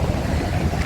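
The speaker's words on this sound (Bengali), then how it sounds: "কি সুন্দর হাওয়া দিচ্ছে" Steady wind blowing near the Gajoldoba river bridge in hilly country under cloudy weather, a loud continuous rumbling gust on the microphone with no voices, lasting under a second.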